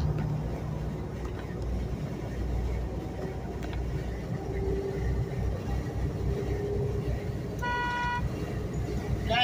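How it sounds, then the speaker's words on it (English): A brief car horn toot sounds near the end over a steady low rumble of a car driving along a mountain gorge road, with a person talking under the engine noise. "Dang, it's a horn again."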